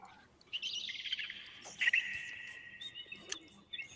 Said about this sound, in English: Oh, yes, I hear some birds.